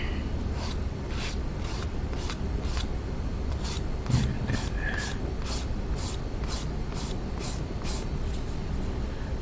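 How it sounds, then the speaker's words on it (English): Wave sanding sticks rub back and forth over a plastic Gundam model kit part in a steady, close rasping rhythm of repeated short strokes, with no talking. "these are sanding sticks by Wave"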